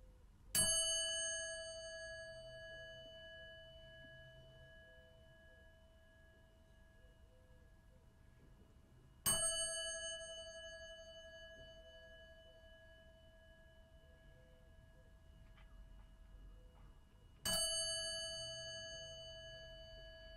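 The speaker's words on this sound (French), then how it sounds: "après avoir invité la cloche à sonner" Three clear strikes of a meditation bell, spaced roughly eight seconds apart, each ringing out with a pure sustained tone that slowly fades before the next; nearby and otherwise quiet, with no talking.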